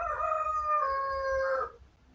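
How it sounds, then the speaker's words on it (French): A rooster crows once in a long, drawn-out call on a farm, loud and close, then cuts off into quiet background noise. "vous avez entendu le coq"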